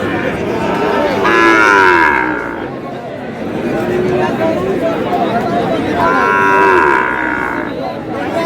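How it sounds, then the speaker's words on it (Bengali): A Sahiwal bull at a livestock market lets out two long, loud moos, one early and one near the end, over a steady murmur of the crowd and nearby talk. "শাহিওয়ালের ষাঁড়।"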